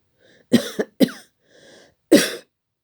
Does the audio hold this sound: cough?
yes